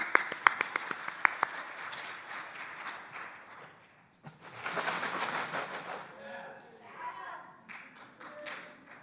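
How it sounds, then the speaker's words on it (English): Brief, faint applause for a guest invited up at a church livestream service, scattered claps in the first seconds giving way to a louder patter and then a quieter stretch of room noise. "Let's give her a round of applause."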